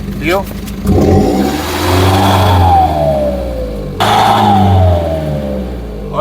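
A stationary Tata Nexon engine is revved twice in neutral, each rev climbing then dropping back to a rough idle, loud and close.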